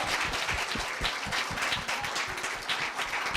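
An audience at a middle school speech festival applauds a student speaker, steady rapid clapping from many hands heard at moderate distance and fairly soft, continuing without pause and with no talk.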